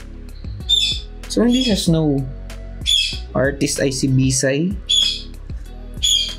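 A bird gives sharp, shrill squawks at intervals while a person talks nearby, the calls cutting in between and over the speech.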